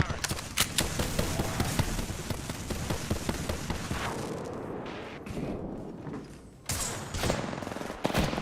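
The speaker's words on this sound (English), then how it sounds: "Knuckle clusters firing." Knuckle cluster grenades in Apex Legends go off as a rapid series of sharp cracking bursts, dense at first and then thinning into scattered pops after a brief lull, fairly loud and close.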